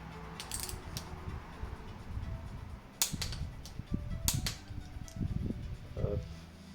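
A bolt on a Peugeot 309 GTI engine block is tightened to torque, giving a handful of quiet, scattered metallic clicks and ticks at irregular intervals, close up in an otherwise hushed workshop.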